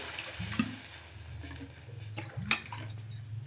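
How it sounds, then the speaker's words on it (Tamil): Water is poured into a pan in a couple of splashy bursts, with a low hum and faint clinks in the background. "இப்போ தேவையான தண்ணி ஊற்றி"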